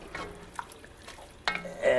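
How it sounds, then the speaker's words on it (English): Crawfish being stirred into risotto in a pan, with soft scraping and faint sizzle in short bursts, growing louder and busier toward the end. "Just stir them for 15 to 30 seconds."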